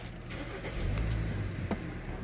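A Hyundai Sonata engine cranks and catches, followed by a steady low idle rumble at close range with no talking.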